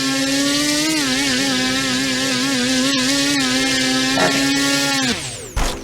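Electric motor of an RC model airplane holding a hover in 3D aerobatics, a loud steady high-pitched whine with slight wavering pitch, then winding down near the end.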